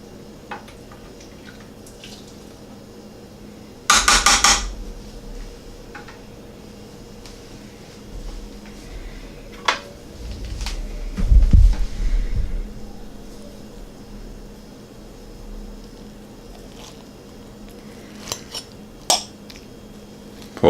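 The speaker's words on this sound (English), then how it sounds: "I'm gonna get a big spoon and get some of that juice out of there" A big spoon clinks against a pot while cooking juice is scooped out of a pot of pigs in a blanket with meat, cabbage, rice and tomatoes. The clinks come as sparse, intermittent knocks, with one sharp clatter early and softer scrapes later over quiet background.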